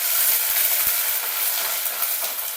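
Ginger garlic paste sautéing in hot ghee in a pot sends out a steady, close, continuous sizzle for a chicken dish, with a few soft stirring knocks near the start and no talking.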